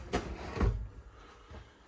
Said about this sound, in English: Little pull-out drawer.